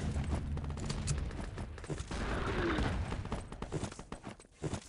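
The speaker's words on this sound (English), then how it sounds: "that's friendly artillery coming in" Friendly artillery strike in Wolfenstein: Enemy Territory, a rapid cluster of booming impacts and crackling blasts rolling one after another at mid distance, dense early and thinning toward the end.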